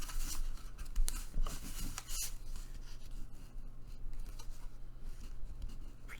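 Paper lunch bag being folded down along its gusset line, with soft close-up rustles, scrapes and creasing rubs of paper in irregular bursts.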